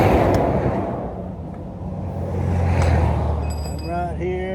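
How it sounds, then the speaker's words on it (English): Road traffic on highway 59 passing beside a truck stopped at the roadside, a broad rumbling swell of passing vehicles that rises and falls, with a brief higher whine near the end. "You can hear all that traffic."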